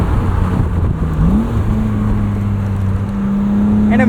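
A 1999 BMW Z3 M Roadster's engine revs up loud and close, the tone climbing and then holding steady as a sustained roar with a prominent exhaust drone and no voices.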